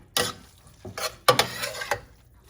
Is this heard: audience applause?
no